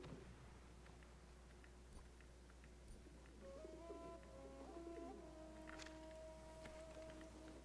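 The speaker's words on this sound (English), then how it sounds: "Pigeon noises intensify." Pigeons coo in Battlefield 1, soft low repeated calls rising in a cluster over a quiet game ambience, fairly faint and with no talk.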